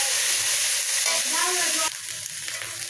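Vegetable curry frying in a pan before ground lentil paste goes in, a steady close sizzle with faint stirring that drops slightly in level partway through.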